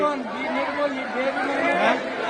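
Dense crowd chatter at the Akkalkot Swami Samarth temple during a packed darshan, a steady wash of many overlapping voices filling the space with no single speaker standing out.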